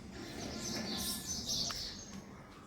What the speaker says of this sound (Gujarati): રોજની જેમ ચકલીઓ ને કોયલ પણ બોલી રહ્યા છે